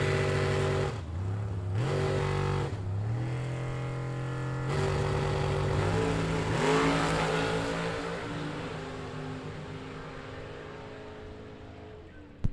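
At a bracket drag race, a 1963 split-window Corvette and a Roadster launch with loud, rising engine roars that climb through gear changes and then fade as they pull away down the strip.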